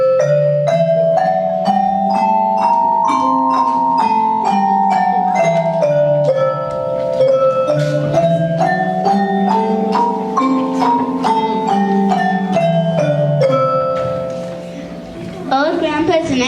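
Cat's theme from Peter and the Wolf: a slinky, sneaky woodwind melody with short staccato notes over a soft accompaniment, playing steadily and clearly at moderate loudness from start to finish, alone with no talking.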